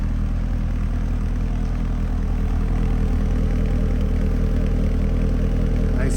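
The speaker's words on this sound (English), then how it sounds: "Nice sounding exhaust." A 2012 Chevrolet Corvette Grand Sport 3LT sits idling, its exhaust giving a steady low rumble with even pulsing, close and alone, with no talk.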